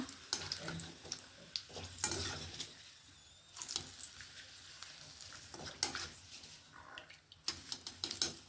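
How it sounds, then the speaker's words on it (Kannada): Curry leaves frying in hot oil for avarebele mixture, a soft crackling sizzle with bursts of stirring and scraping that swell and fade, faint and close, no talking. "ಕರಿಬೇವು ಹಾಕ್ತಾ ನೋಡಿ ಈ ಥರ ಚೆನ್ನಾಗಿ ಫ್ರೈ ಹಾಕ್ಕೊಳ್ಬೇಕು"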